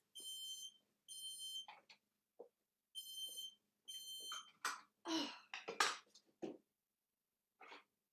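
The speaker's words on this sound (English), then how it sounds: "I just had to turn the smoke alarm off." A smoke alarm sounds bursts of high, piercing electronic beeps repeating in short groups, then stops, followed by scattered rustles and clunks nearby in a kitchen.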